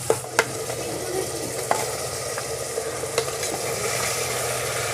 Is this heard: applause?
no